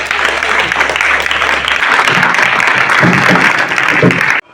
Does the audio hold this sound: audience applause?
yes